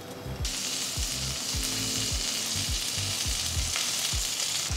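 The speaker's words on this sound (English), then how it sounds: "Start frying the sausages." Sausages fry in a pan for a crepe filling, giving a loud, steady sizzle and crackle throughout with occasional scraping stirs and no talking.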